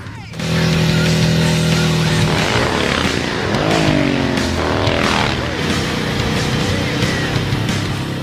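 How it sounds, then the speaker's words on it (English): A loud racing motorcycle engine in a game's sound recording runs steadily and close, its rough roar rising and falling with throttle changes throughout. "getting some actual sounds of a power plant, drivetrain, and characteristics of the motorcycle"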